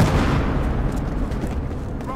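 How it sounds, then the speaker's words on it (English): A gas grenade bursts in the shooter game Battlefield Hardline, a loud, sustained low rumbling blast that fills the short moment and slowly tapers. "Throwing a gas grenade!"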